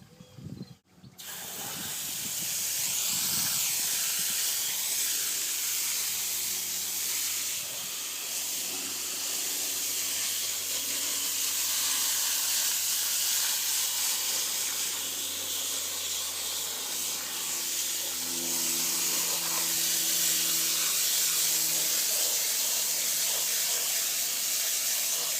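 Steady hissing spray of water misting bonsai roots after drastic pruning, continuous and close for most of the stretch, with faint low hum beneath.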